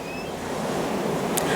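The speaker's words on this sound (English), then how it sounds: "the little waves splashed happily at the side of the boat" Small waves on a calm lake splash steadily against the side of a boat, a soft continuous wash of water with a brief brighter splash near the end, no voices.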